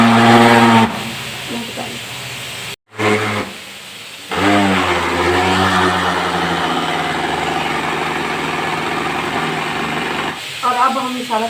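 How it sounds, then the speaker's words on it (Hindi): An electric grinder whirs through spices for a palak chicken curry, a loud high motor whine running in bursts with a short stop partway through and a shift in pitch as it restarts. "अब हम इसको ग्राइंड करेंगे।"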